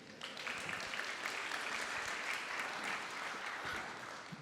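A crowd at a brand forum event applauds, a dense, sustained wash of clapping that stays steady for several seconds before easing off slightly.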